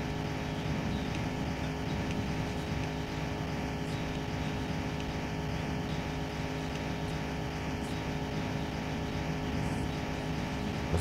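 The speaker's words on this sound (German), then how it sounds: "der Motor ist an der Grenze, weil halt das Getriebe nicht mehr kann." Car engine straining at full throttle in the video game The Long Drive, with a new engine and a failing gearbox, a constant droning, buzzing roar that holds steady and loud throughout with no talk.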